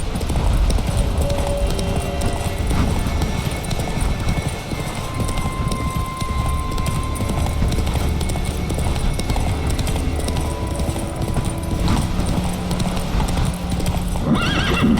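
Roach the horse galloping in The Witcher 3, rapid continuous hoofbeats pounding close and loud with a neigh breaking through, steady throughout.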